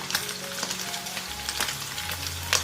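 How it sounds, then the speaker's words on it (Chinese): Minced meat and chopped garlic stir-frying in hot oil in a wok for a Hakka eggplant pot dish, a steady close sizzle with occasional spatula scrapes and light clinks. "接着我们来起锅热油，等油温热了，把肉末放进来炒香。 炒香了之后加入蒜末，"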